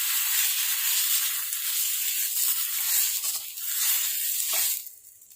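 Ghee sizzling in a pan for patishapta, a bright continuous frying hiss with some stirring scrapes, fading abruptly near the end.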